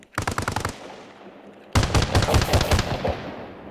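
A 30mm vehicle cannon in the Arma video game fires two bursts of rapid, loud shots, a short volley then a longer string after a brief pause.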